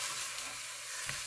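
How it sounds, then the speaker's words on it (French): Sausages browning in a pan for a pork and green banana stew, giving a steady, close, even sizzle with a faint stir near the end. "Nos saucisses commencent à colorer."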